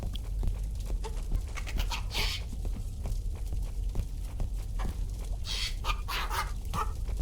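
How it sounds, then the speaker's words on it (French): A turkey gobbles in a video game, faint clucking calls that come in short bursts over a low, steady background. "Encore un dindon, sérieux."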